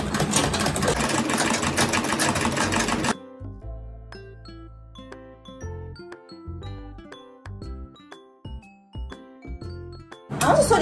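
A sewing machine back-stitches the seam of a fabric bucket bag, a quick burst of rapid mechanical stitching that stops, followed by a few seconds of softer clicks and scattered taps before the machine briefly runs again at the end.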